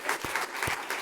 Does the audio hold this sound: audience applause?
yes